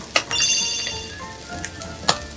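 Butter sizzling in a pan while rice is stir-fried for green curry fried rice, a close, steady crackle broken by a few sharp clinks of the utensil against the pan.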